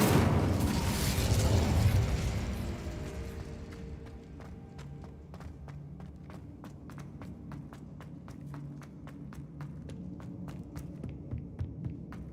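An Incendio fire spell cast in Hogwarts Legacy opens with a loud, broad burst of flame, then fades into a low hum with a steady run of soft footsteps.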